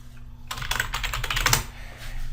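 Quick bursts of typing on a computer keyboard, a run of close, crisp key clicks with no talking.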